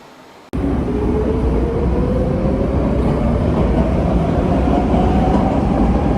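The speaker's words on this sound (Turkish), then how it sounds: "Şimdi geldim metroya bineceğim." A Vienna metro train roars steadily close by, a loud continuous rumble with a faint rising whine, beginning abruptly after a brief quiet moment.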